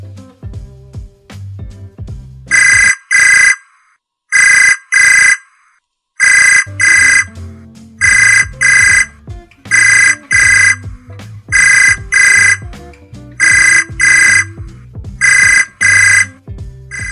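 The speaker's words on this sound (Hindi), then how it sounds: "इधर मेरा मोबाइल बज रहा है" A mobile phone ringtone rings loudly in repeated bursts of a bright electronic melody, each burst with short gaps between, over a low musical background, with no talking.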